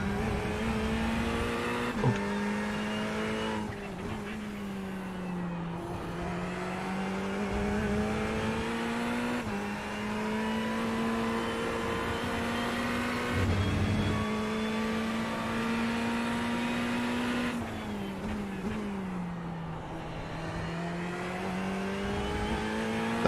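A race car engine at Road America in a sim racing game drones steadily throughout, its pitch rising through the gears and dropping sharply on downshifts and braking. It stays loud and continuous with no talk.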